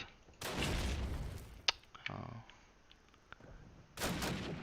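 A headshot in the Dawnville map of a competitive first-person shooter: one sharp, brief gunshot crack, followed by a few softer impacts, under game noise and excited commentary from a caster.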